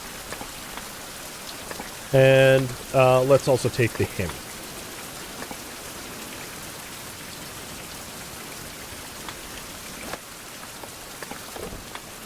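Steady rain falls during daytime in the survival game Fountain of Youth, a constant soft hiss underneath someone speaking briefly and a short burst of tonal game sound early on.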